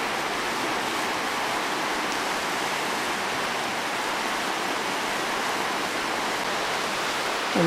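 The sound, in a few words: roaring river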